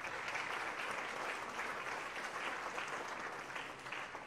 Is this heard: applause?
yes